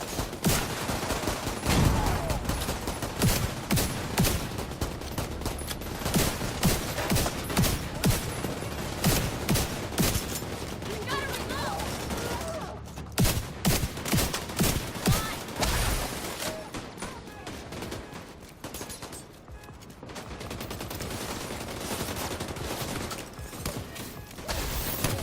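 Video game gunfire aimed at a red panda, sustained rapid bursts of automatic fire and dense volleys that go on almost without pause, loud and close, easing briefly before resuming.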